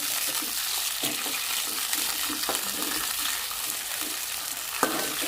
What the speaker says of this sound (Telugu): ఒక ఏడెనిమిది పచ్చిమిరపకాయలండి వేసేసుకోవాలి అట్లా ఇలా దూరగా వేయించుకోవాలండి